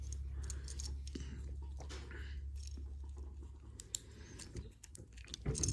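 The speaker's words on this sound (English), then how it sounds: "we're going to fold this down, fold this up, straighten out the legs" A plastic Bumblebee action figure from the Legacy Evolution line is folded and transformed by hand, giving quiet close clicks and ticks of snapping joints over a low hum.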